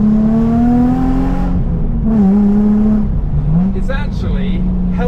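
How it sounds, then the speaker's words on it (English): Loud cat-back exhaust with twin Powerflow back boxes and sports cats on a wrapped daily-driver car, revving with a strong low drone and rising and falling pitch swells, while a person talks over it. "It's silly loud, this car. It's a cat-back exhaust system, twin power flow back boxes"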